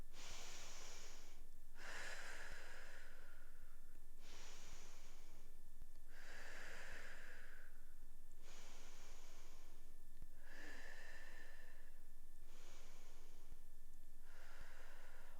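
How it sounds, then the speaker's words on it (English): Slow, deep breaths during a yoga session, each long airy inhale and exhale repeating in an even rhythm of about five cycles, close and quiet with no talking. "let's just breathe into it. 5 big breaths."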